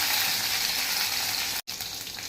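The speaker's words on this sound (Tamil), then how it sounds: "கொஞ்சமாக கடுகு உளுத்தம் பருப்பு, கருவேப்பிலை சேர்த்துக்கலாம்." Mustard seeds, urad dal and curry leaves tempering in hot oil for a South Indian dish, heard as a continuous close frying hiss that cuts out for an instant and then resumes, with no voices.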